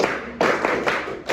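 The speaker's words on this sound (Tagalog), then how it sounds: "Bigyan natin sila ng 11 palakpak." A group in a classroom clapping in a quick rhythmic burst, three or four loud close claps in unison, no voices.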